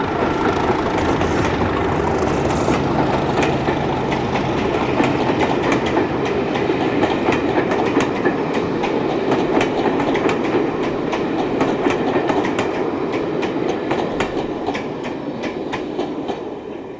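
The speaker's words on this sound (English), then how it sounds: "This is the return working of the only other loco hauled service in the area, the summer Saturday Stockport to Holyhead." A loco-hauled passenger train on the summer Saturday Stockport to Holyhead service passes on the line near Helsby, with a steady rumble of engine and wheels and a rhythmic clickety-clack of carriages going by at moderate distance.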